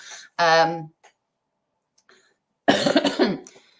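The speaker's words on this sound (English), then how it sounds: "Sorry about coughing as well" A sharp, harsh cough comes first, then a pause, followed by a longer rough burst of coughing close by.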